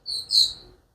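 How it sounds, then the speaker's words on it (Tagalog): Small birds chirping outside an open window of a home in Korea, two or three short high calls within a second, quiet and close with no talking. "Ayan, naririnig nyo yung ano ng mga ibon."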